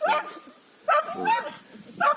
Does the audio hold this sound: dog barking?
yes